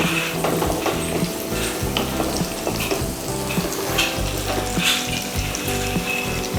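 Chicken pieces for dragon chicken sizzle and fry in a pan, a continuous crackling hiss with stirring clatter and no talk.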